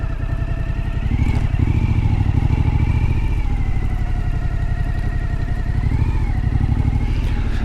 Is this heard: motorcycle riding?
yes